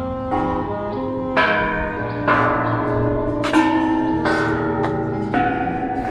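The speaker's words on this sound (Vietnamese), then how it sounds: "Đây có một cái lắc chuông" A handbell rung in a garden shrine, struck in separate rings from soft to loud, each with a bright metallic attack and a long ringing decay, about six strikes over several seconds.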